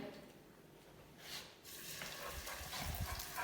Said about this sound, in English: Make sure that you get a nice sizzle